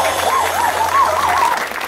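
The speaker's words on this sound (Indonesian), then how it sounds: "Berikan tepuk tangan yang meriah buat Tuhan." Church congregation applause at an Indonesian-language worship gathering: a dense, steady wash of clapping running throughout, with a sung or sustained voice line riding over it.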